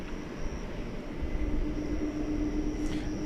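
A departing airliner at DFW Airport at night sends a steady broadband jet roar across the field, with a faint tonal whine riding over the continuous rumble, moderately distant and alone.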